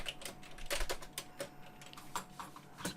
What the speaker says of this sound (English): You can type some text and save it.